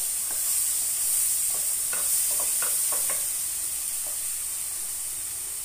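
Tomato paste made from two tomatoes stirred in a sizzling pan, a steady frying hiss with a few close scraping strokes of the spoon, no voices.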